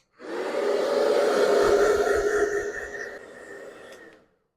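A hair dryer blows with a loud, steady whoosh for about four seconds, then drops to a lower setting before cutting off.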